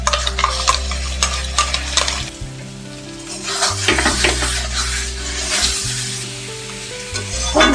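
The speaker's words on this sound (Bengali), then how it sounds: "খুব ভালো করে কষিয়ে নেব" Ground spice paste being sautéed with fried taro in a pan, a steady close sizzle with repeated scraping stirs of a spatula and occasional metal clinks, loud and continuous with no talk.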